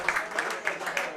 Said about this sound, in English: How about a nice round of applause from our friends from Keith's Marina helping out Sunday night at the Slinger Super Speedway